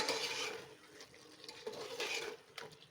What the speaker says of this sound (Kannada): ಇದೆಲ್ಲ ಒಂದು ಸತಿ ಮಿಕ್ಸ್ ಮಾಡ್ಕೊಳ್ಳೋಣ.